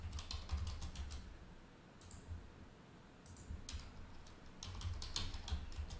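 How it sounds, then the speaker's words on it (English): Keys tapped in quick bursts on a computer keyboard, with short pauses between runs of clicks; a steady low room hum underneath. "I'm just going to type them in just because it's a little bit faster."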